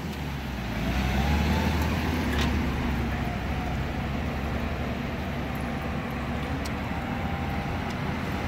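A $200 Toyota Supra being driven around in circles, its engine a steady, fairly loud rumble with road noise running throughout and no talk.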